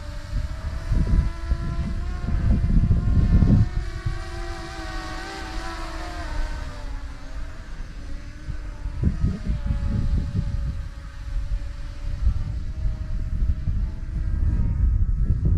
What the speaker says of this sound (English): Oh man, that is a good flying drone.